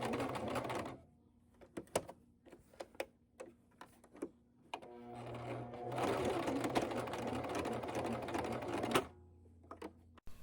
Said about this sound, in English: stitching it securely onto the bodice